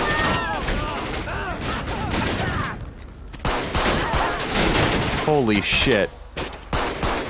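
Heavy, sustained gunfire in the GTA V LSPDFR police mod, a dense loud barrage of shots with a brief lull, while someone speaks excitedly over it.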